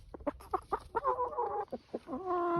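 Chickens, including a rooster, cluck in a series of short, close notes, followed by a longer drawn-out call, with no talking.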